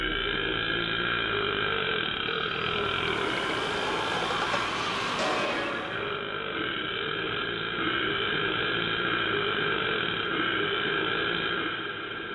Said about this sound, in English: Then the Great Spirit burped.